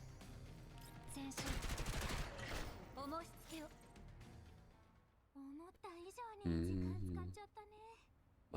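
Rapid bursts of video game gunfire crackle loud and dense through the first few seconds, then give way to music-like tonal sounds and a voice speaking over the game.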